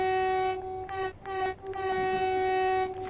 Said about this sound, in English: Let's go ahead and use that horn.